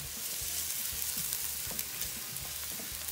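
Garlic and ginger cook in a pan, giving a steady close sizzle with repeated soft scraping stir strokes throughout.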